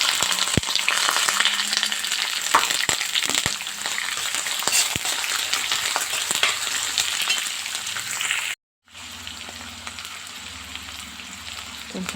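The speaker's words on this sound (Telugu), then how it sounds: "పల్లీలు వేగిపోయి ఇందులో ఆనియన్స్ వేసుకున్నాం." Peanuts and onions fry in hot oil in a pan for poha, giving a steady close sizzle with occasional sharp pops and stirring clicks, then a brief silence before the frying resumes.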